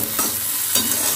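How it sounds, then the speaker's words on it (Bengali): Okra (bhindi) frying in a pan at home, a steady close hiss of sizzling oil broken by a couple of scraping stirs of a spatula, with no voices. "করছি ভিন্ডি ভাজা"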